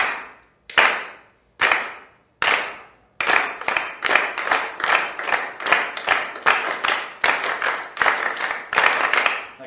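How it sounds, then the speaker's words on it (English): A group claps rhythmic patterns in unison, a few single claps spaced apart at first, then steady runs of sharp, loud claps in regular beats and quicker paired beats, with short pauses between phrases. "Ladies and gentlemen, can you clap please for me? Four beats of tars, four beats of TTs, and four beats of tika-tis."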